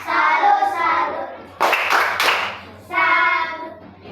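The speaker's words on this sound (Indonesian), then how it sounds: "kita berikan tepuk salut untuk kelompok 1" Schoolchildren in an elementary classroom perform a rhythmic 'tepuk salut' clap cheer, bursts of clapping alternating with chanted voices close by.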